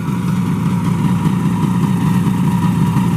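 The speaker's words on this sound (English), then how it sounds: "these camera microphones aren't the best, and they make the engine sound kind of wonky" A 1967 Yamaha YR1 Grand Prix motorcycle engine runs steadily at a fast idle, a loud, continuous close-up buzz with no talking.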